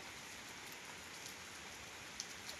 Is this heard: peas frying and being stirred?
no